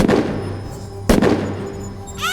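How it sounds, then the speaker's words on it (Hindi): Gunfire in a Hindi horror cartoon: two sharp, loud gunshots about a second apart, each trailing off in a reverberant tail, followed by a brief rising whine at the end. "मयंक गन से करिश्मा की तरफ गोली चलाने लगा"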